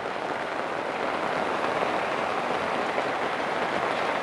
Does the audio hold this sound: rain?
yes